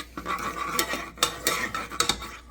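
Annie's shells and cheese stirred in a pan, rhythmic scraping and clinking of a utensil against the metal with a faint sizzle, close and fairly loud.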